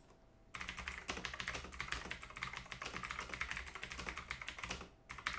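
Rapid, steady typing on a computer keyboard, a dense run of close key clicks lasting several seconds before stopping near the end, with no talking.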